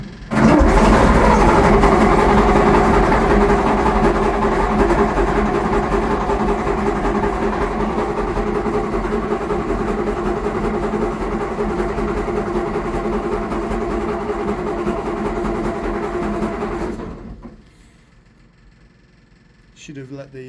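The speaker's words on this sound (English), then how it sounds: "we put the throttle on, start the fuel pump and the ignition" Diesel engine of a SKOT OT-64 armoured vehicle turns over and catches, then runs in a loud, steady, rumbling idle for about seventeen seconds before cutting out, leaving near silence.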